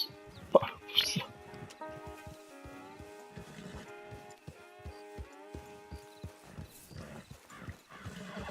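A horse in the video game Red Dead Redemption 2 snorts and whinnies sharply near the start, then its hooves clip-clop in a steady walking rhythm, close and clear over a soft musical background.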